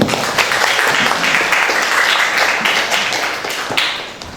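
Applause from a classroom of children at an Islamic religious lesson, a dense steady patter of many hands that lasts throughout and fades slightly toward the end, with no talking.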